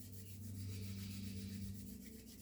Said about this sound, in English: Rub the hands